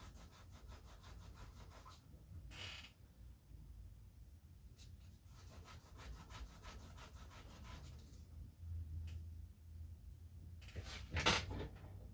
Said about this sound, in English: Kind of sand it down a little bit.